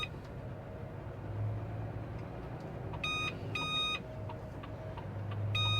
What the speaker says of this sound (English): Detector's going off.